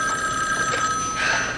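Telephone ringing in a 1981 soap opera scene, a steady electric bell ring, close and loud, running continuously through the short clip with no voices.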